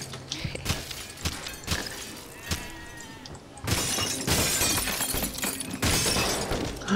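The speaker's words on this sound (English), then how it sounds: "the glass will be broken over here" Glass shattering in the video game Dino D-Day, a sharp crash around the middle followed by dense scattering breakage debris that lasts several seconds, fairly loud, with faint voices beneath.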